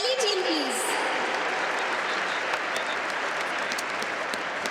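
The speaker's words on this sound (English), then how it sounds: "Your round of applause should not stop for these cyclists." An audience at a Naturopathy Day celebration applauds cyclists called onto the stage, continuous dense clapping across the hall, with a brief voice at the start before the applause carries on alone.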